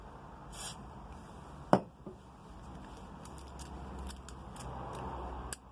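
A sticky Nissan Micra door lock mechanism being worked after lubrication, giving a sharp click followed by scattered faint scraping and clicking at close range, with no talk.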